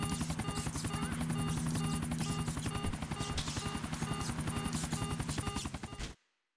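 Helicopter in the video game Grand Theft Auto: Episodes from Liberty City, a loud, steady rotor thump with a dense whining engine, running continuously for about six seconds before cutting off abruptly.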